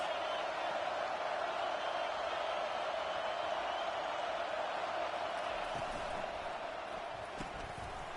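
Stadium crowd at an American football game, a steady dense roar of many voices from the stands, loud and continuous throughout without any break.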